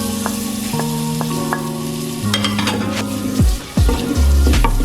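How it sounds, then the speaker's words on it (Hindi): Sliced onions sizzle steadily in a hot pan for a dhaba-style mixed vegetable dish, with a continuous frying crackle and occasional clinks and scraping from stirring. "अब प्याज को भी लाइट सा ब्राउन करेंगे।"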